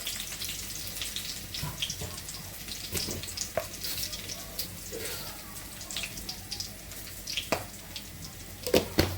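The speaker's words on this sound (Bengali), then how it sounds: "ডাল তেলে দিয়ে দিচ্ছি এখানে পেঁয়াজ আর রসুন দিয়ে দিচ্ছি আর পাঁচফোড়ন দিয়ে দেবো" Onion, garlic and panch phoron frying in oil for dal give a continuous close sizzle with stirring scrapes and occasional sharp crackles, running alone without talk for several seconds.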